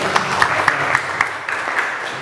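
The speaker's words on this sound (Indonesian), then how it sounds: "Terima kasih buat tepuk tangannya" A brief patch of scattered clapping from a crowd, fairly steady and moderate in volume, with no one speaking.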